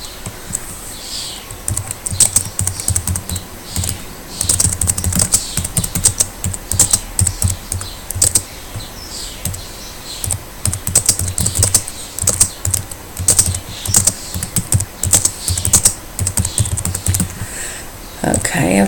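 Steady typing on a computer keyboard, close and clear, with irregular bursts of key clicks spread across the whole stretch, briefly pausing now and then, with a few faint speech sounds near the end.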